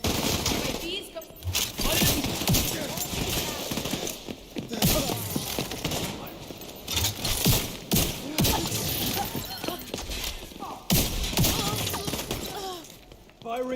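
Gunfire in The Division 2 video game, repeated sharp bursts and single shots with shattering impacts and clinking, mixed with voices talking over the fighting.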